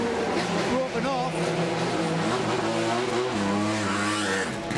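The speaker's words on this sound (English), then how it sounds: "that's the great sound of that number 87 Ferrari rejoining this race" The number 87 Ferrari race car rejoins the 2006 Le Mans race with a loud, continuous engine roar that rises and shifts in pitch, heard under a commentator talking.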